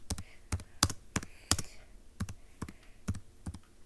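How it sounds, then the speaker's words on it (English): Irregular, close clicks of someone typing on a computer keyboard, about a dozen sharp key taps with uneven gaps and brief pauses, alone without talk. "I'm bad at typing."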